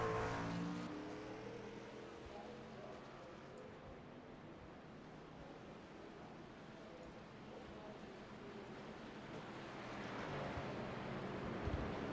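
Racing trucks on pit road at Kansas Speedway during a truck series season finale, a sustained distant engine drone with passing roar swelling toward the end.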